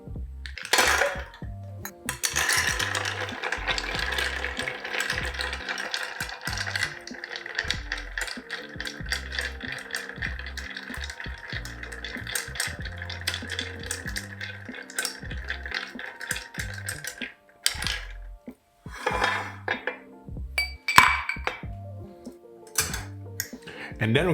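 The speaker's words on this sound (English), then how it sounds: "We can now fill our mixing glass with ice and stir it for about 60 revolutions." Ice stirred in a cocktail mixing glass for a Plaza Lobby cocktail, a steady clinking rattle of cubes against glass running continuously for most of the span, fairly close, then a few scattered clinks near the end.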